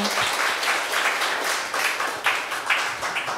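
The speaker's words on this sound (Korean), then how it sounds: "따뜻한 박수 부탁드려요" An audience applauds warmly at a live Korean talk, a dense, steady wash of many hands clapping at full strength for the whole stretch, with no voices over it.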